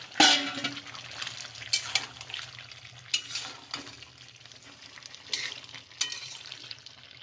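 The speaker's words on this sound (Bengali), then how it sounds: "এবার আমি টমেটোগুলো দিয়ে দিচ্ছি।" Tomatoes drop into a frying pan of capsicum chicken, setting off a sizzle with stirring scrapes and soft splashy clatter, close and moderately loud, with a sharp hit at the start and intermittent stirring accents afterward.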